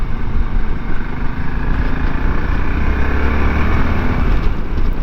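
A 2023 Voge DSX650 motorcycle engine drones loud and steady while riding through roundabouts, with constant wind buffeting and a rough low throb and no talking.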